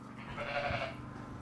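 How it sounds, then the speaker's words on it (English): A freshly sheared ram gives a single short bleat, fairly faint, over low background noise. "just look at that sheep"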